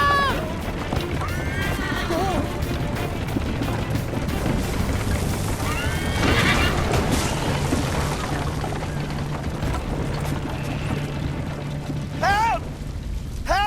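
Horses in the Assassin's Creed Liberation video game whinny several times over clattering hooves and crashing, rumbling in-game noise, with a voice speaking briefly between the cries.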